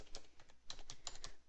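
Computer keyboard typing while entering a caller's details into job-scheduling software: quick irregular clusters of crisp key clicks, close and alone with no talk.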